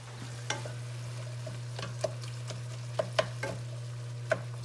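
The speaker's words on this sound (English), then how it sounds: "you can see that our meat is browning over here really well" Ground meat for sloppy joes browns in a pan, giving a soft steady sizzle with a low hum underneath and several sharp utensil clicks and scrapes scattered through.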